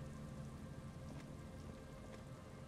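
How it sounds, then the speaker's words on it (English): In the video game Disco Elysium, rain drips from the mesh of an empty trap near reeds, a soft, steady patter heard faintly throughout. "Rain drips from the mesh of the trap."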